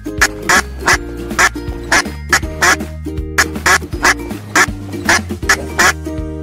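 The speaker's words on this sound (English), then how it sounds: "Duck." A duck quacks repeatedly, loud and near, a string of harsh nasal quacks in uneven rhythm over a low steady background drone.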